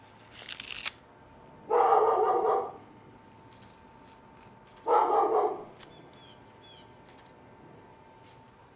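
A pet dog barks in a home kitchen while salsa is being made: two loud bursts of barking, each about a second long and a few seconds apart, with a faint brief sound just before the first.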